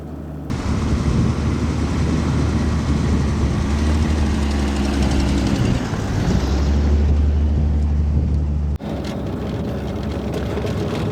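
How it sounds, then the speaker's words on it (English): A 1981 Foxbody Mustang's engine drones loudly as it drives, with a rough rumble and clattering rattles, ending in a sharp bang before the noise drops. "while driving this car, you'll hear a lot of rattling and banging"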